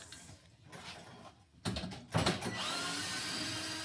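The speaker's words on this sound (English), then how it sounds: "we're going to go around with our drill, and we're going to remove the 4 Tech screws that hold on the orange cover boxes" A power drill backs Tek screws out of the orange cover boxes on a Jen-Ken ProFusion 16 glass kiln: faint clicks first, then the drill whirs up and runs steadily at close range.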